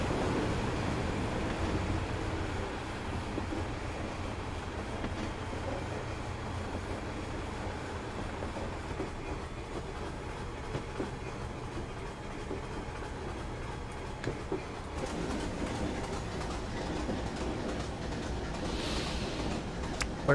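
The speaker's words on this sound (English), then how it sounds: "with one of my favourite trains for noise" Steady, rumbling roll of a train in Train Simulator 2021 on the Weardale and Teesdale line, a continuous engine and wheel drone with faint rhythmic clicks, constant and moderately quiet throughout.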